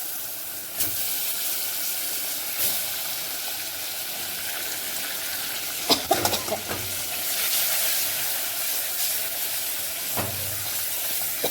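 Fish dropped into a frying curry with red chilli powder and chutney in a pan, giving a steady sizzling hiss with brief clattering bursts and soft stirring scrapes, no voices over it.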